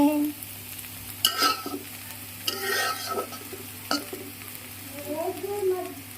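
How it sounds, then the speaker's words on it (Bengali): Potatoes fry with small crabs in a pan and are stirred, giving scraping, clattering strokes over a steady sizzle, with a brief bubbling hiss near the end. "এটা হচ্ছে কাঁকড়া দিয়ে আলু ভাজি"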